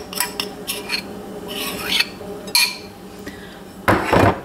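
Metal spoon clinking and scraping against a pot while mixing meat and shredded cheese, in scattered short bursts with a louder clatter near the end, no talking.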